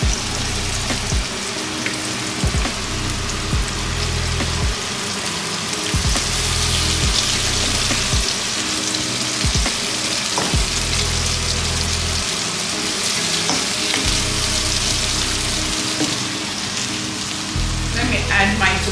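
Blended ginger, garlic and rosemary being stirred into a frying sauce, a loud continuous sizzle with recurring low scraping strokes from the stirring, close up and unbroken by talk.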